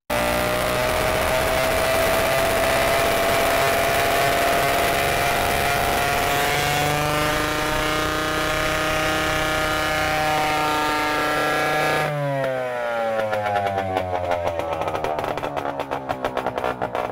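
A beautiful vintage snowmobile sled engine runs steadily at an Old Iron show in Waconia, a loud, continuous droning buzz whose pitch shifts as it revs, with a sharper rougher change near the end.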